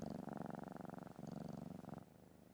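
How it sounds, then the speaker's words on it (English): A cat purrs close and softly in a bedroom, a steady rhythmic rumble of quick pulses that pauses briefly and then carries on. "It's a cat"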